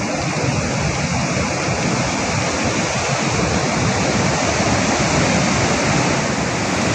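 The Aklan River rushes through an irrigation channel in typhoon conditions, a loud, constant roar of churning water with no let-up, heavy low rumble and steady hiss.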